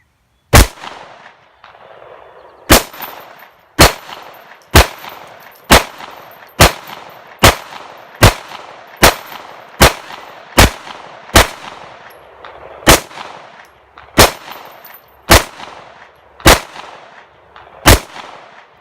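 Diamondback AM2 pistol fired at steel targets at a range: about seventeen loud, sharp shots in a steady, evenly paced string, each with a brief ringing tail, with no talking.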